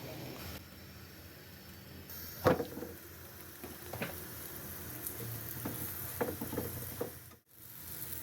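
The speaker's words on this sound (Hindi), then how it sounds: "ये मैं इसके ऊपर घी लगाने लगी हूँ। ये है पराठा फैसल का।" Ghee sizzling on a paratha on a griddle makes a steady soft crackle, broken by a few sharper taps and scrapes from the cooking utensil, close and moderately quiet.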